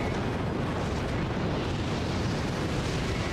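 Dense, continuous rumbling explosions and blasts roll through a bombardment in the Age of Calamity video game, loud and unbroken from start to finish.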